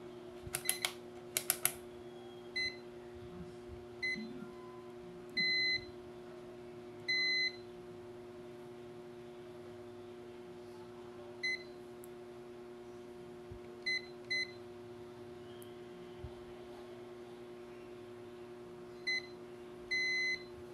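A multimeter in continuity mode sounds short, sharp electronic beeps while its probes test a MOSFET on an MSI A320M PRO-VH PLUS motherboard. The beeps come in scattered single and paired bursts over a faint steady hum, with no talking.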